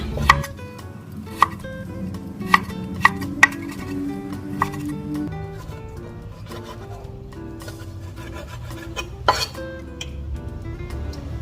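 A knife chops pork into pieces on a cutting board, giving sharp, irregular knocks and light clinks at close range in a quiet kitchen.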